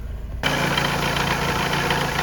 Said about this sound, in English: we have a normally idling engine, and it's running pretty damn good